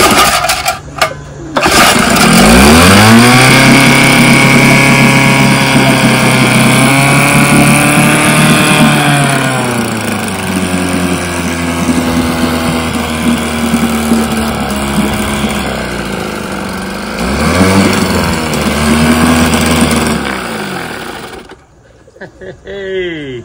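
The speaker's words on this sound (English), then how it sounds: "I got Billy's carburetor swapped out with my carburetor, and guess what? It runs just fine." A small engine fitted with a swapped carburetor runs steadily at a fast idle, close and loud, with a rev rise around the middle and another brief rev near the end before it quiets.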